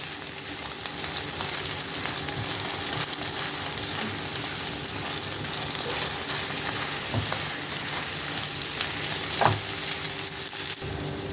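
Cheese stuffing with chopped coriander leaves frying in a pan and being stirred, a steady close sizzle running throughout with occasional scrapes and clicks of the spoon against the pan.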